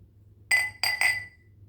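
Dollar Tree drinking glasses clink together three times in quick succession while being handled, bright and close in an otherwise quiet room.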